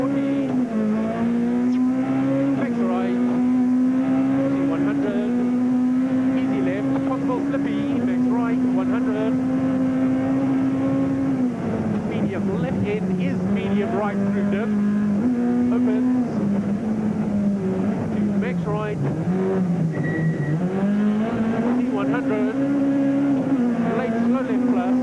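Heard from onboard, a Toyota rally car's engine drones loudly on a stage in the 2007 Toyota Dealer Rally, its pitch climbing and dropping with gear changes and throttle, constant throughout.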